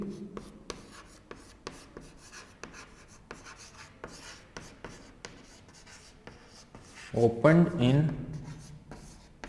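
Lecturer writing on a board during a history class, chalk or marker producing a quick series of short taps and strokes across the clip, close and moderate in volume, while he speaks in Hindi and English throughout.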